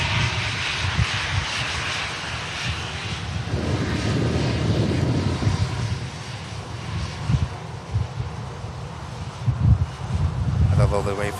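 An airliner bound for Copenhagen takes off at Manchester Airport in blustery weather, its engines a broad, steady roar buffeted by wind noise on the microphone, with a voice talking over it.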